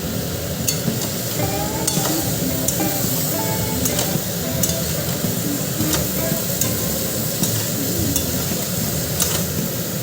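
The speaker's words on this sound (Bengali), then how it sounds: "এই যে আমরা এই সবজিটা দিয়ে দিচ্ছি পটল আর ঝিঙ্গে দিয়ে একটু নাড়াচাড়া দিয়ে দিই" Pointed gourd and ridge gourd are tossed into a pan of cooked-down spice paste, giving a continuous sizzle broken by scraping and sharp clinks of a spoon against the pan.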